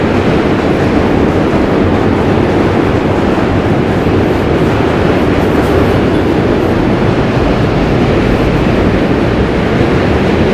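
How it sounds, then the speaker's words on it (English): Subway trains rumble across the Manhattan Bridge in New York, a loud, continuous roar of steel wheels and rattling cars filling the whole stretch, heard up close without any talking. "Manhattan Bridge is so loud with trains."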